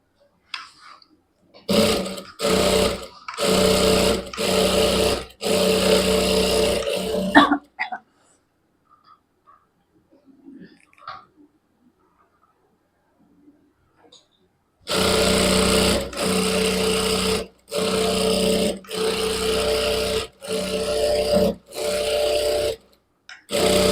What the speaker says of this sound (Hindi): अभी इसको ओपन करके इसको टॉप सिलाई लगा लेंगे इस तरह से।